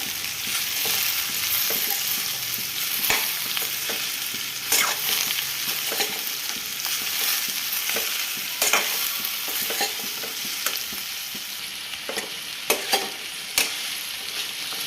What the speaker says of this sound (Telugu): బెండకాయ వేసుకున్నాక ఒకసారి కలుపుకుందాం.